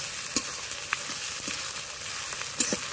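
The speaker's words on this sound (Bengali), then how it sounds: "আদা ও রসুন দিয়ে কিছুক্ষণ নেড়ে নেব।" Ginger and garlic paste frying with browned onion and tomato for a Bengali mutton and potato curry, a continuous sizzle with several soft stirring scrapes and clinks up close.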